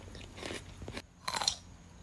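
Crunchy grapes chewed close up, two short bursts of wet crunching bites separated by a brief pause, fairly quiet with no talk.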